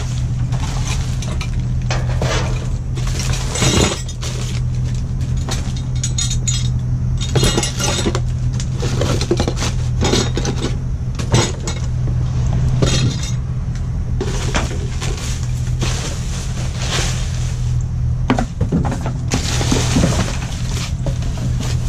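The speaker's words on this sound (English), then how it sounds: "Broken glass." Broken glass in a load of scrap crashes and clinks continuously, with dense, loud, repeated shattering impacts over a steady low mechanical rumble and no talking.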